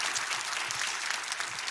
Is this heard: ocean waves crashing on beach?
no